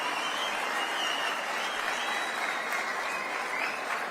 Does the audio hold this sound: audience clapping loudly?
yes